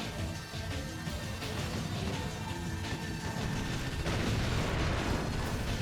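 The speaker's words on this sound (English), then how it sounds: "Mortar out." Mortar shelling in the mecha game Steel Lancer Arena International, a dense, continuous roar of booming low-end blasts that swells louder near the end, heard alone without talk.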